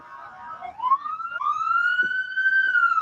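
A police or ambulance siren wails in a single rising, sustained tone with bright harmonics, moderately loud and clear over quiet background, without speech.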